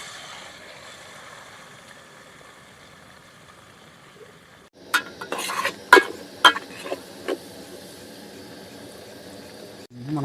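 An egg frying in a pot at a hilltop campsite, scraped and stirred with a utensil in short clattering bursts over a quiet background sizzle, with a few sharp metallic clicks near the end.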